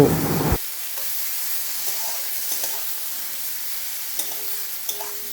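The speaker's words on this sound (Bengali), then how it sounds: "এবার সবকিছু মেশানোর পর দিয়ে দেব একটি মিডিয়াম সাইজের টমেটো কুচি আর পরিমাণ মতো নুন, দিয়ে সবকিছু আবার একসাথে মিশিয়ে নেব।" A frying spice mix with chopped tomato and salt is stirred in a pan for katla fish roe bhuna: a loud burst of sizzle, then a quiet, steady hiss with light spatula taps.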